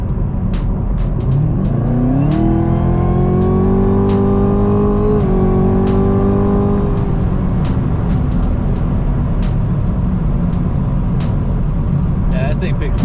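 A Camaro ZL1 with a 10-speed automatic accelerates hard from inside the cabin, its engine note climbing steadily through a long pull, then easing off, with a voice talking over the steady road noise.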